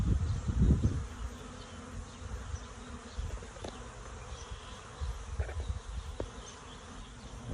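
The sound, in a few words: swarm of bees buzzing around a trash can trap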